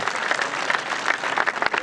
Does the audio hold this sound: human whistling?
no